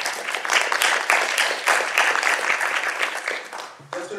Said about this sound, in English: So one round of applause for all our volunteers.